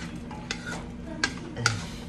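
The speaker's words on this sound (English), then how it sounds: "Then I'm gonna start stirring this thing, letting cook this for a little bit." Onions cooking in a pan being stirred, with soft scraping and a few light clinks of utensil on pan over a steady low sizzle, close up and faint.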